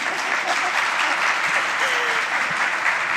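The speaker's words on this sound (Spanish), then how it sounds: "Señor, aplaudan." Sustained audience applause at a Spanish-language conference on AI and transparency, a broad continuous wash of many hands clapping at steady loudness, with faint low murmurs underneath.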